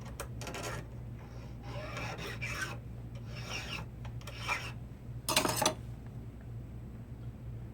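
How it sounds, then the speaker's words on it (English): Rasping file strokes on a ladies' ruby and diamond ring being sized, with bursts of filing in uneven runs over a low steady hum and a louder scraping stretch near the end, no talking. "File that down nice and even."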